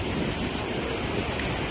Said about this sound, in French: ces vagues là qui se claquent sur la falaise